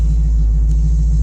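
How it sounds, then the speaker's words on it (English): A car idles steadily after fresh, correctly gapped spark plugs went in, giving a smooth low rumble that holds even and close throughout with no revving. "Car idle's a lot better, startup's a lot better now with the spark plugs being perfectly gapped"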